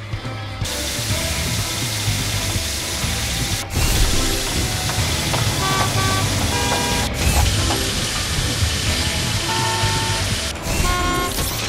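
A drill in the Paw Patrol Adventure City Calls game, a busy, steady mechanical whirring and ratcheting with clicking gears, broken by a few sharp clacks, under light game music and no talking.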